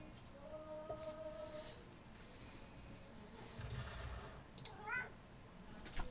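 A pet cat chirps and meows indoors, faint short trills and a brief rising meow over a low background hum.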